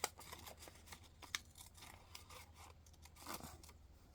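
Scissors snip around a paper mask outline in short, uneven cuts with soft rasping paper sounds and a few sharper clicks. The cutting is close but very quiet.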